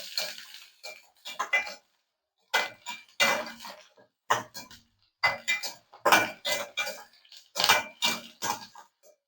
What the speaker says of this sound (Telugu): కొబ్బరి వేసుకొని బాగా ఫ్రై చేసుకుందాం.